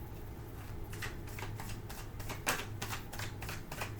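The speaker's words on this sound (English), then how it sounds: "I will shuffle out a tarot" Tarot cards are shuffled close up in a quiet room, a soft, rapid run of riffling flicks and papery slaps repeating for a few seconds with no talking.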